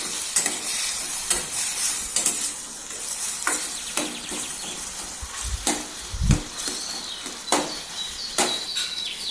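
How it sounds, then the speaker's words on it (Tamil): Tomato thokku with chili powder is stirred in a pan, with repeated scraping spoon strokes in an irregular rhythm over a soft sizzle, close and clear, and no one speaks. "இது எல்லாத்தையுமே நல்லா கலந்து விட்டுக்கோங்க."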